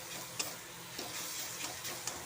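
Spice paste with chilli powder being stirred in a pan for Bengali jackfruit curry, a steady soft sizzle with a few sharp scrapes of the spoon at intervals, fairly quiet and close, no talking.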